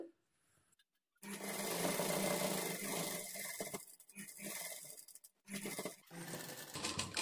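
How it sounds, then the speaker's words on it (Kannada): Close and loud, a sewing machine runs in long steady bursts of rapid mechanical chatter as it double-stitches puff sleeves, broken by short pauses and a brief silence near the start. "ಈಗ ಇದನ್ನು ಈ ಥರ ತಿರುಗಿಸ್ಕೊಂಡು ಈ ಕಡೆಯಿಂದ ಡಬಲ್ ಸ್ಟಿಚ್ ಹಾಕ್ಕೊಳ್ತಾ ಬರಬೇಕು."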